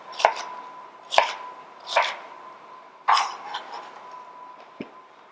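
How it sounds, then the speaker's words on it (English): A knife chops vegetables into big pieces on a cutting board, making four or five sharp, separate thwacks about a second apart, close and clear against a quiet kitchen. "we're going to chop them into big pieces"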